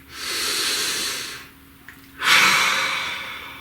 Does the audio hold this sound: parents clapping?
no